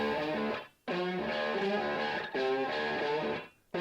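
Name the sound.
main guitar riff with fully wet tape echo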